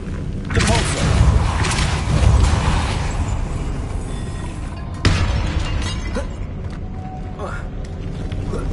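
Depulso repelling spell cast in the video game Hogwarts Legacy: a loud whooshing, shattering burst of magic with a sharp hit near the middle, then a rumbling tail over steady game ambience.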